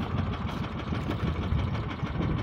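A fishing boat engine idles with a steady low, rough rumble, close and continuous, alone without voices.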